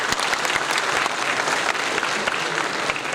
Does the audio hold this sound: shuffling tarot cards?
no